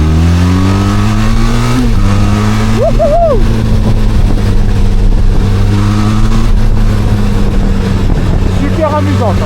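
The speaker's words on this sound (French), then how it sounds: "C'est parti pour l'essai de cette moto qui est du coup la Benelli TRK 502." A Benelli TRK 502 trail motorcycle on a test ride sends out a steady, close engine drone that rises and falls in pitch as it accelerates and shifts through gears. A rider's voice whoops excitedly over it.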